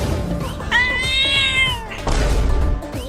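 A cat lets out a long, drawn-out meow, loud and close, amid clattering background noise.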